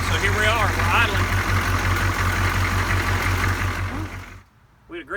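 1982 Chevrolet K10 diesel truck engine idles close by with a steady, loud, knocking clatter and low throbbing pulse, with voices over it, before the sound cuts out near the end.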